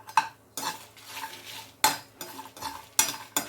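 Spices with garlic frying lightly in a pan under several bursts of stirring, each a short scraping rush of spoon against metal with a faint sizzle between, close and clear, no voices.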